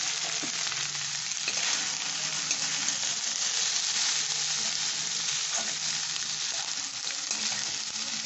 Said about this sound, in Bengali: ততক্ষণে আমি ডিম দিয়ে পরোটাগুলো ভেজে রাখি